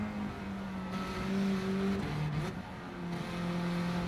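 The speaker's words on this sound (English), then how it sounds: "My voice against the sound of the engine" A racing car engine in the Gran Turismo 7 game, a steady loud drone that rises and dips with gear changes and throttle, heard close and alone without talk.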